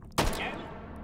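A single 9mm gunshot in the virtual reality shooter Hot Dogs, Horseshoes & Hand Grenades, a loud, sharp crack with a long echoing tail that fades away.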